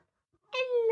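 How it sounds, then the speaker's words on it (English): A cat meows once indoors, a single drawn-out, close and fairly loud call that rises in and holds steady before ending abruptly, following near silence. "My cat's just jumped on the table."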